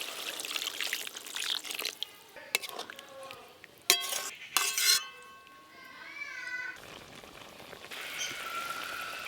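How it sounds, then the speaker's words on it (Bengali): Water is poured into a pan of fried spice paste for a fish curry, giving a hissing, bubbling rush after some clinks of utensils on the pan, close up, with brief talk nearby. "মাছ রান্নার জন্য তো মশলা কষানো হয়ে গেল, এবার জল দিয়ে দেব।"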